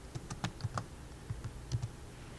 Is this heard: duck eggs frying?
no